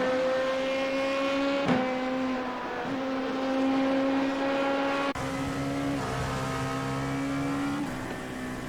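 A race car pulls out of the pit lane at Mosport in a racing game, a steady, droning engine note held close with slight pitch shifts and one brief gear-change dip, no talk.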